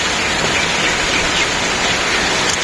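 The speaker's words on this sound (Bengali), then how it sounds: "এখন দিয়ে হঠাৎ করে বৃষ্টিও নেমে পড়লো" Sudden rain shower falling on a street in hot, sunny weather, a steady dense hiss of rainfall filling the whole clip at an even, loud level with no voices.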